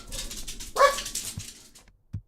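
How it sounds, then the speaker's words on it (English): Dogs at home giving a few sharp barks and yips, a loud burst near the start followed by fading whines and a last short bark. "can you hear my cats barking?"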